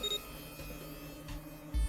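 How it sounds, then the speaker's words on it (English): A scanner panel in the puzzle game 999: Nine Hours, Nine Persons, Nine Doors gives a short electronic beep over a steady low game hum. "The device beeped again and a second asterisk appeared."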